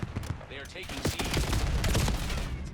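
M8 burst rifle fire in Black Ops 7 sounds as rapid clusters of gunshots, dense and continuous, under someone talking.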